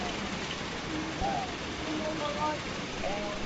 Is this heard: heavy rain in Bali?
yes